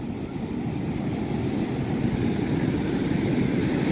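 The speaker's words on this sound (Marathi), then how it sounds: "लय खवाळलेलो हा समुद्र त्याच्यामुळे लाट ना एकदम मोठी येत" Big rough sea waves crash and roll onto Devgad beach, a continuous heavy roar of surf with wind buffeting the microphone, no voices heard.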